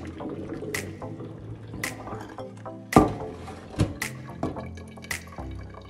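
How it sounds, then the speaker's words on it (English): Hot water from boiling eggs is poured off from a pot into a kitchen sink: splashing and dripping with a few sharp clinks of the pot against the sink. No one speaks. "So I'm gonna pour this water off,"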